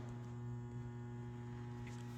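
Hydraulic unit of a 1991 Kent KGS-63AHD three-axis hydraulic surface grinder, 12 by 24 inch, wired for 460 volts, giving off a steady, faint electrical hum with no change throughout.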